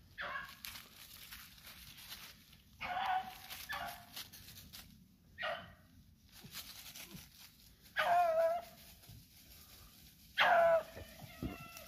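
Hunting dogs barking and yelping during a rabbit hunt, several separate bursts of sharp yips and barks spread across the stretch with quiet brush noise in between.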